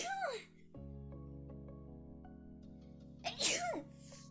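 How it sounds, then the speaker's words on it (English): Two loud, sharp sneezes come close to the microphone, one at the start and one near the end, with a sustained musical drone playing quietly between them. "Hold on. I gotta sneeze."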